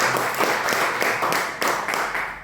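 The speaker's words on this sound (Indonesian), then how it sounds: "Tepuk tangan buat para pengundangnya." Audience applause for the hosts at an Indonesian business opportunity seminar in Pekanbaru, dense steady hand clapping filling the short stretch, fairly loud and close.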